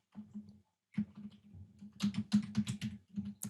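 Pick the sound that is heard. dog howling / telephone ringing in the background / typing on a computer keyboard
typing on a computer keyboard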